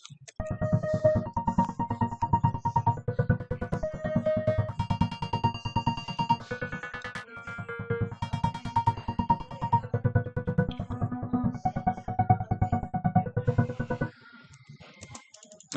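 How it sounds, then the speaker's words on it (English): Synth arpeggio built from FL Studio stock plug-ins, a steady, fast repeating pattern of bright plucked notes over a sustained low bass, loud and continuous for about fourteen seconds before cutting out. "This is what this ARP sounds like."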